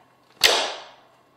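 A single sharp tap-shoe strike as a dancer performs a pick-up, landing on the ball of the foot; one crisp, close click that rings off briefly, alone in a quiet room.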